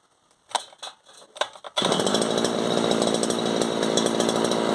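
A small two-stroke brush cutter trimmer engine mounted on a homemade vehicle catches after a few short pull-start attempts, then runs loud and steady at high revs, close by.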